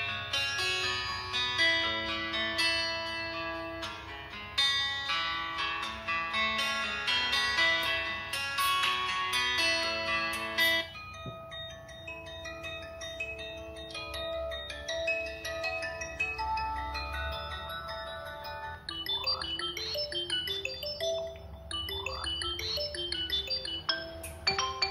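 Ringtone on a Xiaomi Mi 10T Pro phone, a loud, clear melodic tune played through the phone's speaker, with layered bright tones for the first part, then a sparser, echoing melody continuing to the end.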